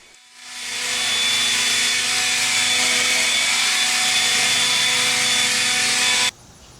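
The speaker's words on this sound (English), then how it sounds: "And even used my blower to speed up the process a little bit." A blower runs at a steady, loud, high-pitched whine while drying a washed area rug on a deck railing, spinning up over the first second, holding evenly, then stopping sharply near the end.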